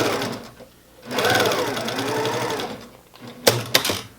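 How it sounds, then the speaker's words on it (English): Home sewing machine running a quarter-inch seam down the side of a fabric face mask's filter pocket, a steady whirring burst of stitching for about two seconds between quieter handling noises and a couple of sharp clicks at the end. "I'm going to come over here to my machine and just run a 1/4 inch seam."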